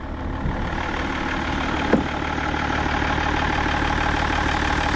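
An old car's engine idles steadily, a low, even rumble with a faint rhythmic throb and one brief knock partway through, running on without voices.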